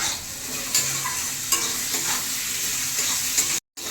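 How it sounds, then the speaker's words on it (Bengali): Onion and potato sizzle steadily while frying in a pan, with scraping stirring strokes throughout, close and alone, until a brief silence near the end. "পেঁয়াজ আর আলু ভালো করে ভাজা হয়ে গেছে।"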